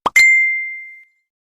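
A single bright electronic ding rings out alone, a short tone that holds and slowly fades over about a second, preceded by a brief soft knock.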